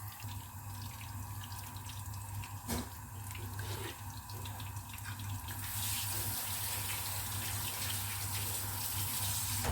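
Marinated chicken wings coated in cornflour deep-fry in oil over medium heat, giving a steady, close sizzling hiss that grows louder partway through, with no voices.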